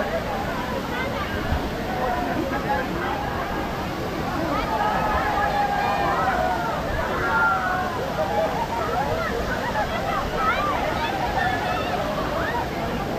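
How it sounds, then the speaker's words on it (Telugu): Kempty waterfall roaring as a constant broad rush of falling water, with a crowd of tourists chattering over it. "ఇప్పటి వరకు మీరు జలపాతాలను చూశారు కదా, కెంప్టీ వాటర్ ఫాల్స్ ని."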